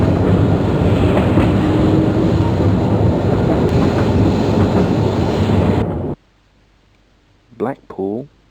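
A restored 1885 Blackpool tram, fitted with batteries beneath the saloon, runs with a loud steady rolling rumble and faint clicks for about six seconds, then cuts to near silence before someone briefly speaks.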